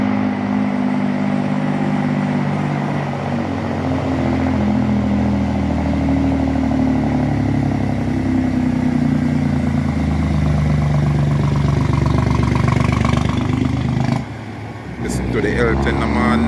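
A heavy water truck engine rumbles steadily at close range, a low droning idle with some rattling, briefly dipping near the end.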